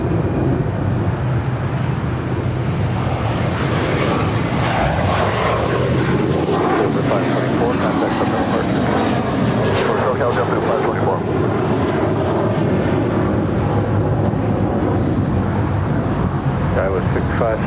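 An airliner roars down runway 25 right at LAX on takeoff, a loud, broad engine rush with wind buffeting the microphone, sustained throughout and building slightly in the middle, with no talk over it.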